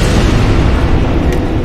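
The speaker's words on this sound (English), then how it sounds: "Wait, here comes the explosion." The Stray Demon's explosion in Dark Souls lands as a loud, sustained low-heavy rumbling blast that fills the whole moment, with no talking over it.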